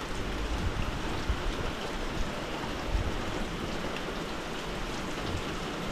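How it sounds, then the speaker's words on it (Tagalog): Steady rain pours down outdoors at a fruit-picking spot, a dense continuous patter of drops on surfaces with no gaps, close and fairly loud throughout, no voices. "Umulan na"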